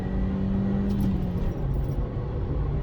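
A Ford Fiesta 1.25 engine while driving, a steady low drone and road rumble from inside the car, even and continuous throughout with no talk.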